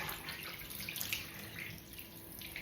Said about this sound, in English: Just rinsing the soap off Snoopy's.